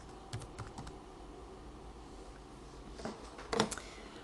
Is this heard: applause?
no